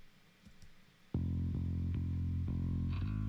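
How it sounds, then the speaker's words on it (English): A bass guitar through an Ampeg SVT studio amp comes in abruptly after a quiet start, playing loud, sustained, slightly overdriven notes with regular note changes, heard alone. "That was the sound of the SVT amp from the studio."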